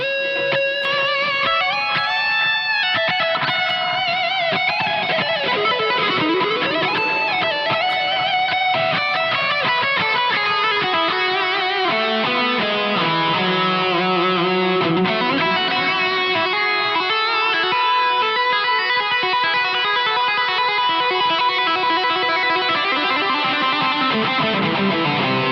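Electric guitar played through a NAM amp capture loaded in Genome, a continuous distorted passage of sustained chords and melodic lines at steady volume throughout, with no voice.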